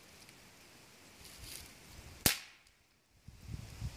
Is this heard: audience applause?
no